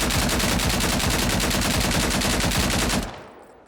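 An LMG machine gun fires in SCP: 5K, a loud and very fast unbroken burst of close shots lasting about three seconds before it cuts off and the echo fades.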